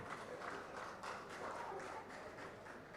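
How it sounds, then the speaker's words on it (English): An audience at a golf tournament ceremony applauds dignitaries with a steady, continuous round of clapping that is fairly faint and even throughout. "Can we have a round of applause for all our dignitaries?"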